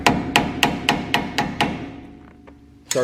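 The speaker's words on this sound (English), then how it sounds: "you just get a little screwdriver and you kind of tap around it" A small screwdriver taps on a Toyota Tacoma brake part during a brake kit install, giving seven sharp, evenly spaced metallic knocks, then two faint ones and a final louder hit.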